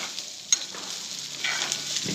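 Hot fried rice is stirred and broken up in a pan over a gentle sizzle, with one sharp utensil clink early on and soft scraping pushes that follow.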